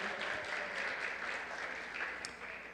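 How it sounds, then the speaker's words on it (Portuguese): A church congregation claps for a musician who has just played, giving a short burst of even, broadband applause that tapers slightly toward the end. "Salva de palmas para ele, né?"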